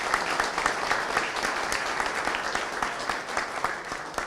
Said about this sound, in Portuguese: uma salva de palmas para eles também